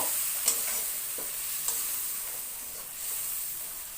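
Chili and cumin powder masala frying with a splash of water in a pan, a soft steady sizzle and hiss with a couple of light spoon taps.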